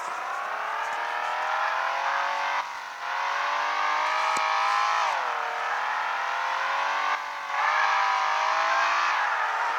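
In a car simulator video game, a car engine revs hard and climbs in pitch, drops briefly at each gear change and builds again. The steady synthetic roar plays alone with no voices.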